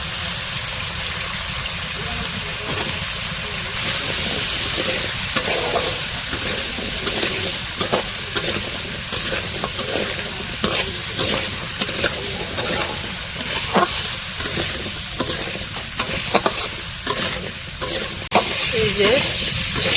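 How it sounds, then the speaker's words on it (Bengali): Potatoes with spices sizzle steadily in a pan in a village kitchen, with repeated scraping stirs clattering throughout, close and continuous. "এই যে আলুগুলো তো অনেকক্ষণ কষিয়ে নিচ্ছে"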